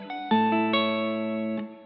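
Processed guitar chords looped in FL Studio with top melody notes layered over them. Bright, distorted, chorus-washed strums ring out in sustained hits, with higher melodic notes on top. The sound is close and full, with a reverb tail as it fades.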